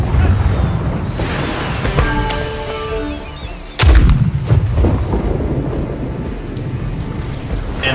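Ship cannons fire on a galleon in the pirate video game Blackwake, a loud close boom with rumbling tail amid wind and battle noise, with a few sharp reports.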